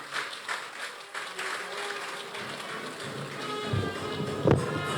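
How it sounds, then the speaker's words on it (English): Crowd applause at an Akwa Ibom State 38th anniversary celebration, a broad steady clatter of clapping over outdoor wind noise, with a few louder thumps near the end. "can we give another round of applause to the Secretary to the State Government?"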